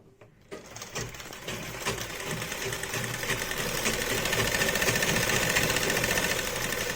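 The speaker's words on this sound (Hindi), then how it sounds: "तो चलिए हम इसको सिल लेते हैं।" An electric sewing machine stitching frock fabric starts up after a brief pause and runs steadily, a fast, even mechanical whirring and rattling that grows slightly louder and continues without break, close by.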